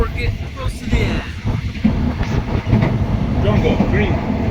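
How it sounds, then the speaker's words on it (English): A passenger train runs on rails through southern Thailand, giving a steady, loud rumble with rhythmic clatter throughout, with voices faintly in the background. "Land train."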